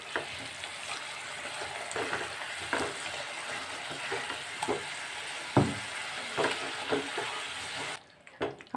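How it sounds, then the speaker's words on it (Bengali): Potatoes sautéing with spices in a pan for a Bengali curd potato curry (dahi aloo kasha): a steady, close sizzle and hiss runs throughout, punctuated by scraping stirs, with no talking. "এই সবগুলো এবার ভালো করে আমি একটু কষিয়ে নেব।"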